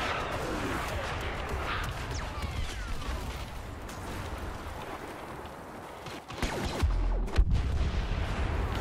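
Gunfire and explosive booms in Star Wars Battlefront trench combat, a dense busy battle soundscape with sharper shots clustering near the end.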